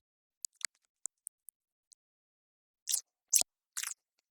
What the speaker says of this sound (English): For the gnawing of the fish, I used a pair of scissors recorded with a contact microphone.